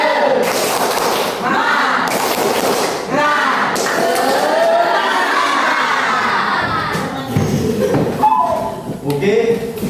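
A classroom of children performs a group clap-and-chant icebreaker, loud shouted voices in unison mixed with bursts of hand claps and thumps, energetic and close, with rising cheers throughout.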